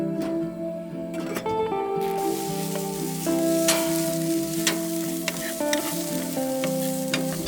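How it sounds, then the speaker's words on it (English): Vegetables stir-frying in a hot pan for beef bibimbap: a dense, continuous sizzle broken by frequent sharp clatters of stirring and tossing, close and alone. "Stir and toss the vegetables until slightly softened."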